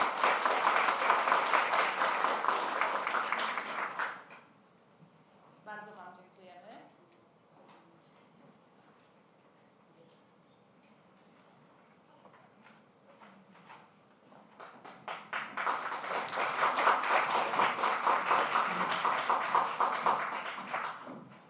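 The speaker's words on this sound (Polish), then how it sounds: "Brawa dla nich." Audience applause at a results announcement for an open stage competition in Pińczów, with a burst of clapping, a quiet lull with faint speech, then a second strong round of clapping.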